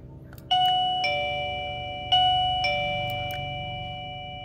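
Japanese plug-in doorbell chime pressed repeatedly, giving several clear ringing ding tones with long decaying tails that overlap, close and fairly loud over a low background rumble.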